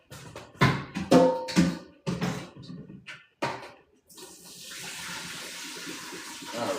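Noodle cooking water is poured out into a kitchen sink, first a series of sharp clattering knocks and splashes, then a steady rushing stream of water.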